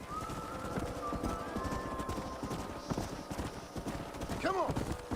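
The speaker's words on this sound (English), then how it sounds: "Stay with the horses." Horse hooves clip-clop at a steady pace in the Red Dead Redemption video game, with a brief whinny near the end and game speech and ambience layered over the hoofbeats.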